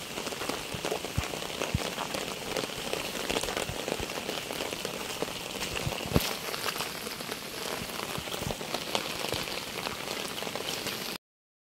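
Heavy rain falling steadily in a village, a dense continuous patter on surfaces close by with scattered louder drops, no voices.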